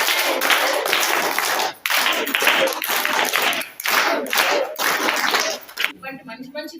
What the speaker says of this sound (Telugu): సారు వండర్ఫుల్ క్లాప్స్ ఒకసారి కొడతాము